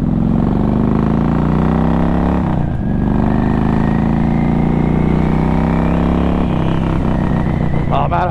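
A Harley motorcycle out on its first ride of the season, its engine loud and close with a continuous droning rumble, a brief dip as it shifts, then rising revs toward the end.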